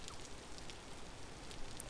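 Steady rain falls in the Vintage Story video game, a dense even hiss with occasional brighter droplet ticks, fairly faint and continuous with no talk.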